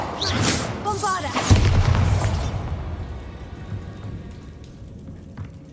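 A Bombarda spell blast in Hogwarts Legacy bursts out as a loud booming explosion with crackling, sparkly debris, then fades into a softer rumbling tail; someone speaks over the start.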